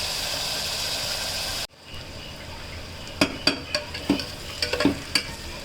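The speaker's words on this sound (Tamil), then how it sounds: "இப்போ வெங்காயம் நல்லா வதங்கிடுச்சு." Onions sautéing in a pan for brinjal thokku give a steady sizzle that cuts off abruptly, then return as a softer fry broken by sharp, repeated spatula scrapes and clicks, close and fairly loud.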